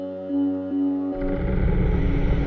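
A sustained synth pad with analog distortion and shimmer reverb holds a chord, then another track joins partway through, thickening it into a gritty, dense wash of sound.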